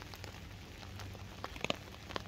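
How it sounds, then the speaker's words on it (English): Rain falls steadily on a wild camp, with a faint continuous patter and a few sharper drips close by, all quiet and without talk. "It's been raining now for about an hour and a half."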